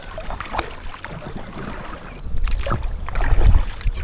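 A paddle dips and strokes through river water beside an Aquaglide Deschutes inflatable kayak, giving close splashes and gurgles in an uneven rhythm, with light wind buffeting the microphone.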